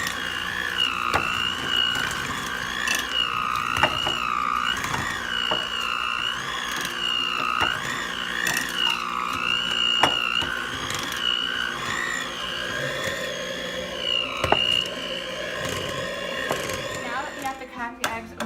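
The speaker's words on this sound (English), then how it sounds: "beat the ingredients with Electro Mixer at medium speed." Electric mixer beating cake batter with Oreos at medium speed, a steady whirring motor hum that wavers in pitch, with occasional knocks of the beaters against the bowl.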